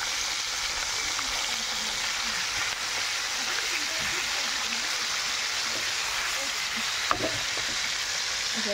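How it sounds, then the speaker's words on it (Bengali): Chicken pieces fry in a pan, a steady broad hiss of sizzling oil that holds evenly throughout, with one brief sharp clatter near the end. "মাংসের পিসগুলা চিকেন এটা এখন ভাজবো"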